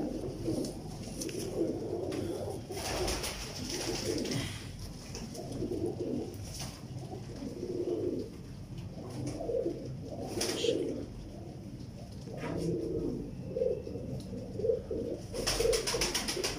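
Teddy pigeons at a breeder's loft cooing steadily, soft layered coos from several birds close by with a constant low background murmur.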